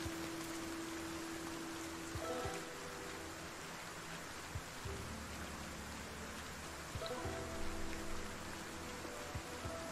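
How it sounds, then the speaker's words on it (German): Heavy rain pours steadily in the zombie survival video game Project Zomboid, a quiet, even hiss throughout with faint low tones beneath and no talking. "Schüttet ja echt wie aus Eimern."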